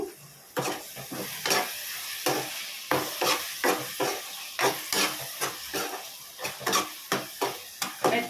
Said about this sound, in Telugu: ఒకసారి అంతా కలిపేసుకుందాము